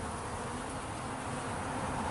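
Honey bees buzzing over honeycomb in a hive, a dense continuous hum from many insects, close and fairly loud, with no talking.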